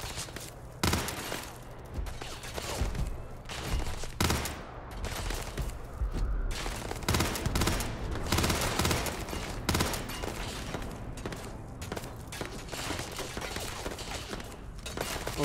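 Rapid video-game gunfire in a first-person shooter, with dense bursts of automatic shots and sharp cracks crowding the whole stretch at close range, continuing without pause.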